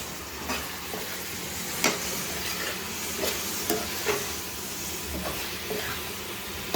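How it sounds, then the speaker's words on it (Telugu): Prawn curry with turmeric is stirred in a pan, with a steady sizzle and hiss under repeated scraping strokes of the spoon, close up and with no talking. "కొంచెం పసుపు వేసుకున్నా ఒకసారి కలుపుకుంటున్నాను"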